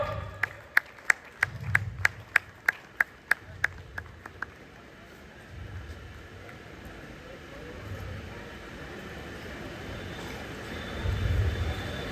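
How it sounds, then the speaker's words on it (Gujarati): Rhythmic clapping from an audience at a Navratri gathering honouring a chief guest, sharp evenly spaced claps for several seconds before fading into a steady crowd murmur. "જોરદાર તાળીઓ વગાડતા રહ્યો."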